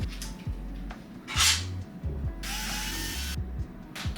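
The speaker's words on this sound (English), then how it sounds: "there's 4 screws on the underside of this. We're gonna unscrew those." A power drill or driver backs out screws from the underside of a custom PC case, with short whirring bursts, clicks and clattering parts, loud and close, with no speech.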